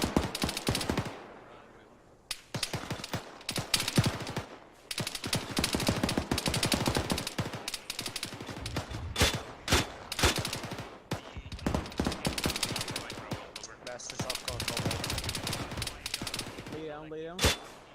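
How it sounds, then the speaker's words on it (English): Heavy, sustained gunfire from HE rounds in a military video game, loud bursts and rapid volleys filling most of the stretch, with short pauses between barrages. "somebody's just sitting in there shooting fucking HE rounds out of that."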